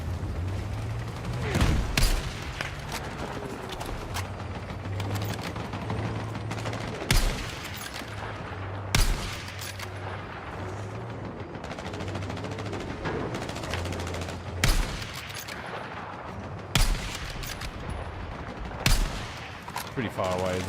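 Distant artillery fire in the Fortnite video game thuds at irregular intervals, roughly every two to five seconds, over a constant low game hum and busy background, with a voice talking at points.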